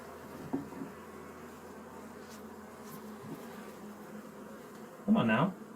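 A steady hum from honey bees fills the air during an open hive inspection, continuous and close, broken by a couple of short handling knocks and a brief burst of voice near the end.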